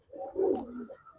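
Giribaz pigeons cooing close by, a short rolling coo with a swell in the middle and a second softer phrase after it, with no voices.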